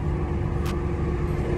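Ford Mustang GT cars driving on a freeway, heard from inside as a steady low engine and road rumble with a brief hiss of wind partway through.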